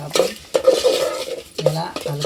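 A spoon scraping and clinking against a pot while stirring chicken masala with onion, chili and lemon, several separate strokes close up, with brief pauses between them.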